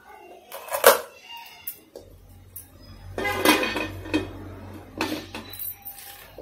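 Cake cups set down one by one onto a metal stand inside an iron wok filled with sand, heard as scattered clinks and clatters of varying loudness with a low hum beneath.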